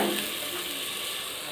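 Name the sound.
coriander and mint leaves sizzling while sautéed in a pan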